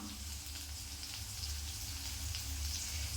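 Onions and curry leaves sauté in a pan with a faint, even sizzle that hisses steadily and quietly without pause.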